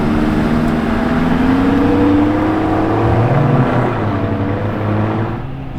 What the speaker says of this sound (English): Yes, it's the Viola ST30 Tecnica.